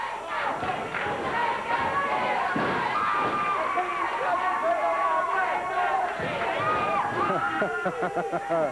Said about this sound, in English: Boss Winter around attempting to quiet the crowd there. They're yelling, let's go, Jeff, let's go.